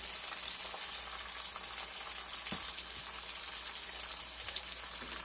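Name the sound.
asparagus frying in oil and butter in a pan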